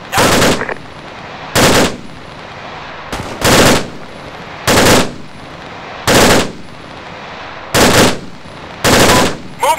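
Machine gun fire in the video game Arma 3 comes as seven loud, close bursts at a steady pace, each lasting about half a second, with quiet background noise between them.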